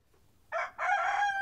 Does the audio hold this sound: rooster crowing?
yes